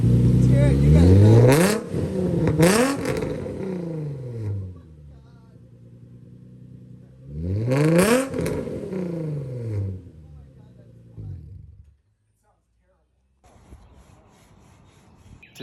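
A car engine revs up and winds down twice, loud and close, with a rough, straining tone before it cuts out to near silence.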